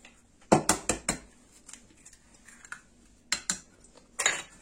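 Eggs and argan oil being whisked in a bowl, with a run of sharp utensil clinks against the bowl, a pause, then another quick burst of scraping taps, close and fairly loud.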